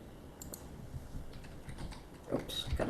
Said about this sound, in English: Of course it records me typing.